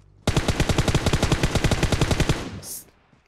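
Loud automatic gunfire in PUBG Mobile on the Erangel map: a steady rapid burst of about two dozen evenly spaced shots lasting two seconds, then fading, followed by a short high hiss; no voices.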